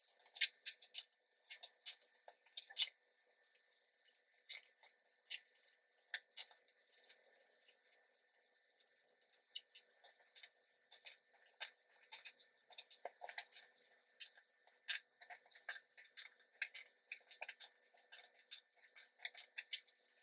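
Small eyeshadow pans are pried and lifted out of a makeup palette one after another, giving sharp, quiet clicks and taps scattered irregularly over a near-silent background.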